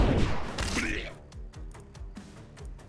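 Crossbow bolts firing in the video game The Last Spell: a loud burst of noise at the start, then a run of quick, thin clicking shots and soft thumps at a steady pace.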